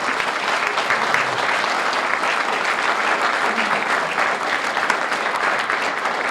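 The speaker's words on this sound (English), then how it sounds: "So give them a round of applause." Audience applause at a 2019 community television award ceremony in Boulder: dense, steady clapping from a full room that holds at an even level throughout.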